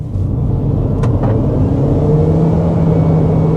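A Haval Jolion Hybrid facelift car accelerating from a rolling start at about 40, a loud steady low rumble and whir heard from inside the cabin, with a couple of faint clicks and no voices.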